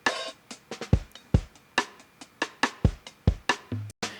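Programmed drum beat in a neo-soul groove, steady hi-hat bell hits over kicks with quiet snare ghost notes slipped in just before each kick, crisp and close, a short gap near the end, no voices.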